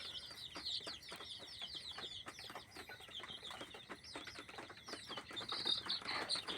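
A brooding pen full of pure native deshi chicken chicks makes dense, continuous high peeping, many birds chirping at once in rapid overlapping bursts, fairly close and moderately loud.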